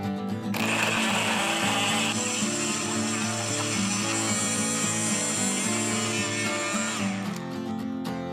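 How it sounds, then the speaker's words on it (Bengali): A kitchen blender whirs at high speed blending orange juice, a loud steady motor whine that starts abruptly, holds for several seconds and then cuts off, with no talk over it. "এখন আমি ব্লেন্ডার মেশিনে ব্লেন্ড করব।"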